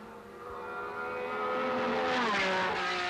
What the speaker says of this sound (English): Chris Amon flashes past in a winning manner